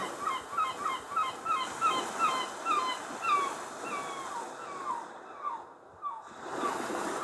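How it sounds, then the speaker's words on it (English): Continuous ocean surf from an ambient phone app washes underneath repeated cries of seagulls calling in quick succession, steady and moderately loud throughout. "So let's have waves and seagulls"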